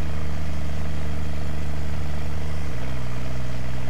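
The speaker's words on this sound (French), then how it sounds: "Alors ce tracteur, ce que j'aime bien, je pense que vous avez pu entendre, c'est que des fois il galère un peu." A tractor engine from a farming video game drones loud and constant, then drops to a lower, strained pitch partway through as it labours under load, with no speech.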